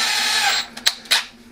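A power drill pre-drills screw holes while a kitchen accessory is mounted in an RV. A steady whirring run fades out, then two short bursts of drilling follow, close and fairly loud.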